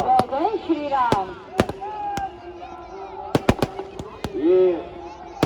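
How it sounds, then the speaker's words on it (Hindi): Fireworks burst at the Ravan Dahan festival in Bikaner, with sharp, irregular cracks and bangs scattered through the clip while voices carry on underneath. "प्रतीक फायर वर्क की ये मेहनत है जो आप इतनी खूबसूरत आतिशबाजी अपने सामने दिखाते हैं।"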